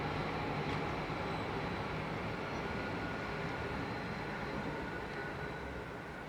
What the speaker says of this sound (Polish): pociąg jedzie teraz